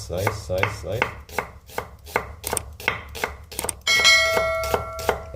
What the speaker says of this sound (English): You just do the slicing motion like this.